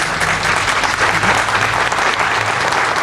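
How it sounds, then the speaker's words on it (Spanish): Audience applause at a talk by the Vida Bipolar association at CCH Azcapotzalco, a dense, steady clapping from a room full of people that stays loud and even for the whole stretch. "les pido que lo recibamos con un aplauso"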